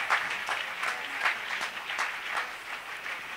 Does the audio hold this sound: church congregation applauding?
yes